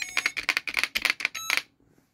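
Typing on a VTech PreComputer 1000 keyboard, with about a dozen quick, evenly paced key presses that each give a bright electronic beep-like click, close and clear, ending abruptly.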